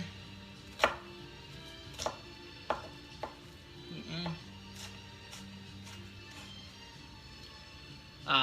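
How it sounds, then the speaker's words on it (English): Knife dicing an onion for a lamb filling, a few sharp chops spaced unevenly against low room hum, close and fairly quiet. "dicing our onion for our lamb filling"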